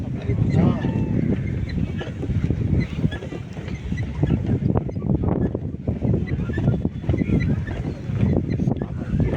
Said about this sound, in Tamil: ஏன்னா எதிர்காற்று அடிக்குது